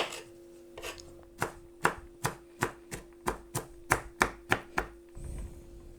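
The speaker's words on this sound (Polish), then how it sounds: "Dlatego też kroję ręcznie." A knife chops comfrey root by hand on a board in a sharp, fairly even rhythm of about a dozen close, crisp thuds, followed by a soft rustle at the end.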